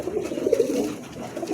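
Gentle throaty cooing of pigeons in a pigeon showroom, a murmuring run of low coos at moderate level, close and continuous with no voices.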